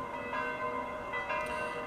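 Church bell ringing at Saint Peter's Basilica in Rome, rich sustained tones with overlapping strikes continuing steadily throughout, heard from the open square at moderate distance.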